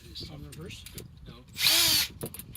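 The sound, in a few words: drill with 3/4 inch step bit drilling plastic bin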